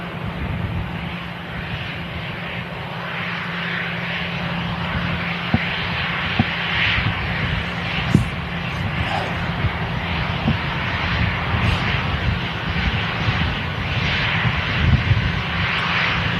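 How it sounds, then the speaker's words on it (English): EasyJet airliner taxiing past at Manchester Airport, a steady jet engine roar and whine that holds fairly close and constant, with light wind on the microphone. "EasyJet about to taxi past."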